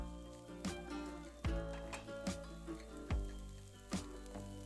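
Red onion sizzling as it softens in a pan, a faint steady frying hiss broken by several sharp knocks and clatters of utensils.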